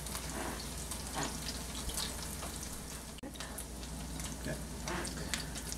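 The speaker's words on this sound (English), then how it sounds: "let them sizzle until they get brown" Spinach latkes fry in hot oil with steady crackling and popping, continuous and fairly quiet, with a soft knock partway through.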